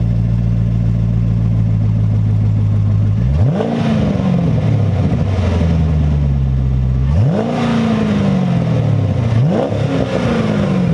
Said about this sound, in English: Give it a little more. Give it a little more.